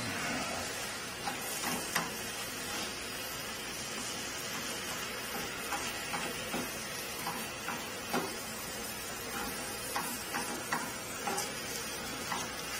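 Food browning in a hot frying pan for a quick burrito bowl, a steady close sizzle running throughout with scattered clicks and scraping stirs of a utensil over the pan.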